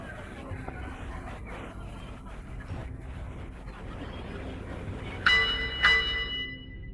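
A bell rings twice near the end of a heavyweight professional boxing match, marking the final round's close, sharp bright strikes rising over a steady murmur of crowd noise.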